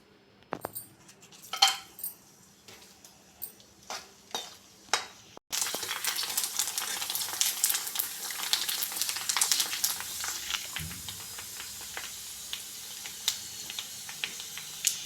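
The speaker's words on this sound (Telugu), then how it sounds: "ఇది చల్లారేలోపు మనం పానీపూరీలను వేయించుకుందాం." Pani puri puris frying in hot oil, a few clinks and taps of a utensil followed by a loud, steady, crackling sizzle as the dough hits the oil, close and continuous to the end.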